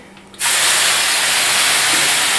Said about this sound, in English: Hear that steam go?